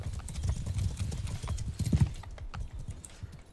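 Cavalry horses galloping in the video game Mount and Blade II: Bannerlord, a dense rolling clatter of many hooves close by, loud and continuous before thinning slightly toward the end.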